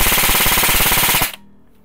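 A red Raven Slasher airsoft gun fires on full auto, a loud, rapid, even burst of sharp pops lasting just over a second before stopping abruptly.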